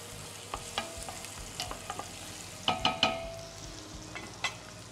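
Onion and garlic frying in a pan, a soft steady sizzle with scattered stirring clatters and a cluster of sharper utensil clinks near the middle, close and fairly quiet.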